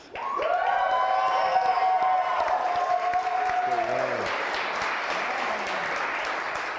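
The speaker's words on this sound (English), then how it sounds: "what a great crowd we have here tonight" A studio audience at a football talk show bursts into applause and cheering. Loud whooping voices rise at the start over sustained, steady clapping that continues at full strength to the end.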